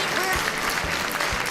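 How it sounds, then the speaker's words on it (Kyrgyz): An audience claps for Aisulu with a brief burst of dense, even applause from many hands, filling the short moment at steady loudness with a crowd murmur mixed in. "Ал эми биздин Айсулубузга жакшылап бир кол чаап коелу баарыбыз."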